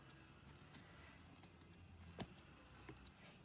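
Small scissors snip repeatedly at the loops of a punch needle project, trimming them into fluffy pile, a series of quiet, close, crisp clicks with one sharper cut, no talking.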